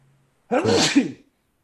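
A single sharp sneeze bursts out close to the microphone, brief and forceful, with silence before and after.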